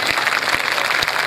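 An audience claps together during a Ram Katha religious discourse, a short burst of steady, dense applause with a few sharper individual claps standing out.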